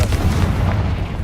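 Confringo blasting spell detonating in the video game Hogwarts Legacy, a dense, booming explosion with a rumbling low-end tail filling the whole short moment, loud and close.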